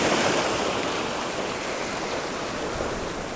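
Steady broadband wash of sea surf at the shore, a continuous hissing roar of waves close by with no distinct breaks, heard alone without talk.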